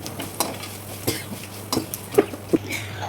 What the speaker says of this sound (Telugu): ఇప్పుడు కారం వేసేస్తున్నాను దీంట్లోనే.